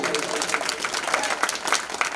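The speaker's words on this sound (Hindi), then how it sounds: "एक बार जोरदार तालियां बजाएंगे" Audience at a religious celebration applauds in scattered bursts, moderately loud and slightly uneven, with voices and crowd murmur mixed in throughout.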